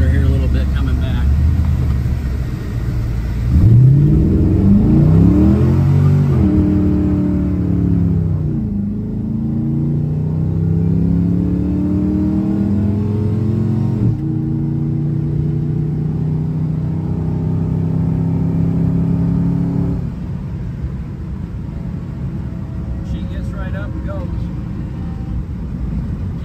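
A 1987 Chevrolet R10 pickup truck revs its engine while driving, the pitch climbing and falling through several gear changes from inside the cab, with a person speaking over the steady drone.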